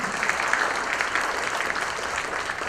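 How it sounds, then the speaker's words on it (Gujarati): Loud, sustained applause from a seated crowd honouring retiring government primary school teachers at a farewell ceremony, dense clapping filling the whole stretch without pause. "સર્વે ગુરુજનોને પ્રથમ જોરદાર તાળીઓથી વધાવી લઈશું."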